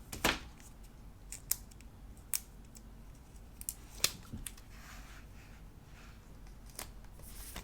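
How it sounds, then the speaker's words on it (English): Scissors snip through a sticker book page in a few sharp, scattered cuts, close and fairly quiet against a soft background hiss. "Cut right into my sticker book"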